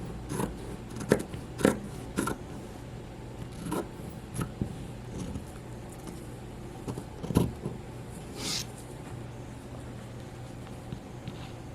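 Scissors snip through the side seam of a shirt being upcycled into a pillowcase, a handful of scattered close cuts and rustles of fabric with quiet pauses between, no talking.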